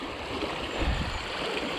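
A mountain trout stream flows close by in a continuous, full rushing wash of water, loud and steady with a slight gurgling swell partway through.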